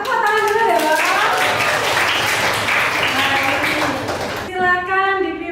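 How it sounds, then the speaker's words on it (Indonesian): Schoolchildren in a classroom clap their hands together in a loud, brisk burst lasting a few seconds, with children's voices chanting alongside and speech resuming as the clapping stops. "Tepuk tangan dulu ya Bapak."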